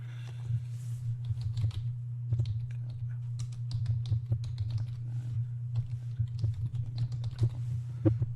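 Keys clatter on a computer keyboard in quick irregular bursts of clicks, close by, over a steady low hum in a quiet room.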